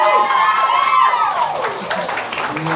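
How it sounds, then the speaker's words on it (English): Audience at a live comedy show at Meridian clapping and cheering, with whoops and shouts over steady applause that gradually thins out. "Ladies, clap for that"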